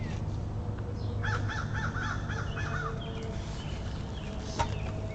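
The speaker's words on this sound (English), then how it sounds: "We have cardinals and blue jays, and I've got a crow." A crow caws outdoors in a quick run of five or six harsh calls at an even pace. The calls sound moderately close over a steady background hum, with no talking.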